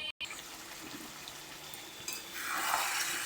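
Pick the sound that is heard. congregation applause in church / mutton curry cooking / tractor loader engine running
mutton curry cooking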